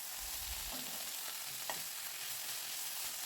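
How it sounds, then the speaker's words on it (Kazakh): Vegetables frying in a pan with a spoonful of tomato paste for borscht give a steady, close sizzle, with a brief clink of a stirring utensil partway through. "Біздің көкөністеріміз қуырылып жатқан сәтте үстіне бір ас қасық толтырмай томат пастасын салып, тағы да бір араластырып қуырып аламыз."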